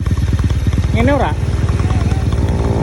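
A motorcycle fitted with an SC aftermarket muffler runs with a steady, close, pulsing exhaust throb. Its beat stays even, and a voice talks over it in the middle.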